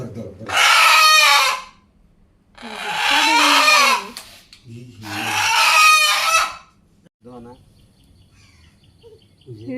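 A rooster crows three times in long, loud calls, each followed by a pause, with some softer clucking and faint background noise near the end.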